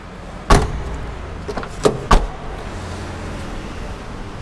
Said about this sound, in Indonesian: buka jendela belakang juga kayak gitu